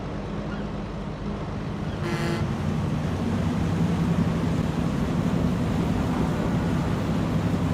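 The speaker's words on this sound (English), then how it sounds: "You can hear the noise of the engine." A ferry engine in Farming Simulator 25 gives a steady low drone that starts near 2 seconds and runs unbroken under a wash of wind and water noise, with no voices.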